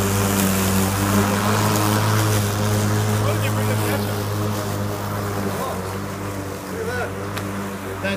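An electric lawn mower pushes through thick, overgrown grass, its steady motor hum loud and continuous with a strained, churning texture throughout.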